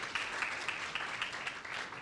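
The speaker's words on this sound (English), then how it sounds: "I want you to clap yourself for the moment" Audience applause at a university orientation day in a room, a steady patter of many hands clapping at moderate volume through the whole stretch, with no talk over it.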